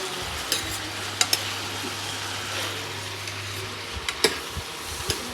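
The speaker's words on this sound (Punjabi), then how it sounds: "ਇਹ ਆਪਾਂ ਨੇ ਸਬਜ਼ੀ ਧਰੀ ਆ ਸਬਜ਼ੀ ਧਰੀ ਹੈਗੀ ਆਪਾਂ ਕੱਦੂ" Pumpkin vegetable curry cooks in a pot in a Punjab village kitchen, giving a soft, steady simmer and sizzle with a low hum, broken by a few sharp clinks of a stirring spoon against the pot.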